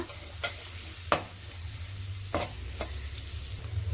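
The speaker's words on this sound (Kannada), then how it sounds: "ಈರುಳ್ಳಿ ಮತ್ತು ಹಸಿಮೆಣಸಿನ್ಕಾಯಿನ ಈ ಎಣ್ಣೆಗೆ ಸೇರಿಸ್ಕೊಂಡು ಸ್ವಲ್ಪ ಅದನ್ನು ಫ್ರೈ ಮಾಡ್ಕೊಳ್ಳೋಣ" Chopped onion and green chillies fry in hot oil for veg egg fried rice, giving a steady close sizzle broken by a few sharp spoon scrapes and stirring clicks.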